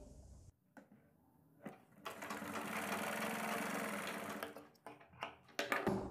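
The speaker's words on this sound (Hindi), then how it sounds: "पकड़ने के बाद में 1/2 इंच चौड़ी सिलाई लगाएंगे।" Sewing machine stitching half-inch-wide pintucks into fabric for a neck design, starting after a few handling taps and running as a loud steady whir for about three seconds before slowing into short bursts and clicks.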